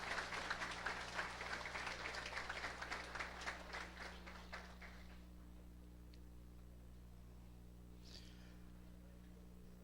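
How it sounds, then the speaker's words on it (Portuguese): Applause rises for the newly diplomaed councillors of Morro Grande at a formal diploma ceremony: a crowd claps steadily for about five seconds before fading into a quiet hall hum. "Nossos aplausos aos diplomados de Morro Grande"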